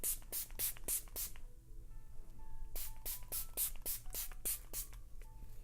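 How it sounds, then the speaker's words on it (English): Makeup Revolution Fix Plus setting spray hisses onto a face in quick bursts: a run of four or five short pumps, a pause, then another rapid series of sprays, loud and close. "I'm just gonna continue using my Makeup Revolution Fix Plus."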